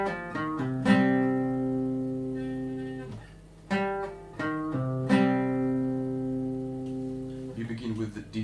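A guitar plays the second section of a riff: a handful of plucked notes ring out with long sustain and legato slides between them, played slowly and clearly up close without any talk.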